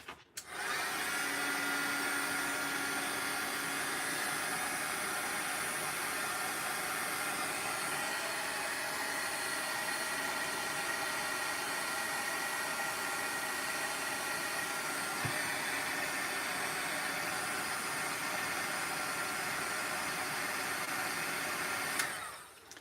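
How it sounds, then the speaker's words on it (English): An embossing heat gun blows a steady, fairly quiet whirring hiss close by while heating a crafting product, running continuously for over twenty seconds before cutting off, with no talking. "And actually, I'm going to use the embossing gun."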